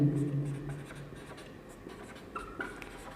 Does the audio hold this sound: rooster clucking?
no